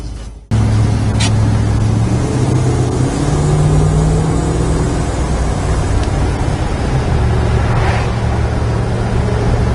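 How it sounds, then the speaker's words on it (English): A 1968 Dodge Charger engine running while the car drives along, a loud steady low drone with wind and road roar from inside, its pitch shifting slightly as the drive goes on. "Oh, a nice running car."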